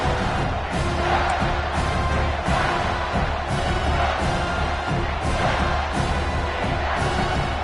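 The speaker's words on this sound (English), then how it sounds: "The crowd elevating its energy, willing this defense to get a stop on this big third down" A football stadium crowd at a Miami vs Clemson game cheers and roars steadily, a dense, loud wash of voices rising in energy before a big third down, with no distinct talk over it.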